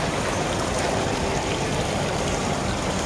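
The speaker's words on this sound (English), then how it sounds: "just listening to the sound of the water" Water flows continuously at a water feature inside a shopping mall, a steady broadband rushing and splashing that stays loud and even throughout, with no talking.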